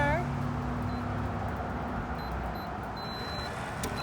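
A building alarm sounds at a door entry: faint, short high beeps at irregular intervals over a steady background hum, with a low harmonic tone at the start.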